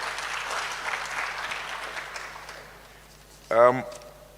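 At a college health sciences freshers' orientation, an audience claps in a dense, steady round of applause that gradually fades out, followed by a short burst of a voice at the end.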